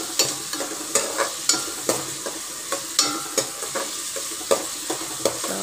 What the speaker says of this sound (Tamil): இப்போ நல்லா வெங்காயம் வணங்கிட்டு இருக்கு.